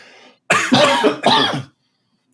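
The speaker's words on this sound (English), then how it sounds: "Same time cough." Two harsh, throaty coughs close to the microphone, one after another, followed by silence and a faint click at the end.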